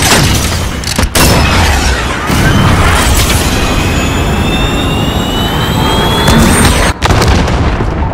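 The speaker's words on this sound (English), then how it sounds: "Missile away." A missile launch in a tactical shooter video game, a loud sustained jet-like roar with rumbling booms and rising whine, dense and continuous with two brief cutouts.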